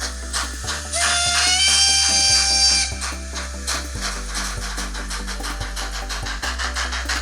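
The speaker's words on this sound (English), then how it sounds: "The showstopper though, as you can already hear, is that they were testing out the sound profile for this Loco too." A Rapido model locomotive plays its sound profile, a loud engine throb with rhythmic low thumps and a brief high whistle-like tone, close and without talking.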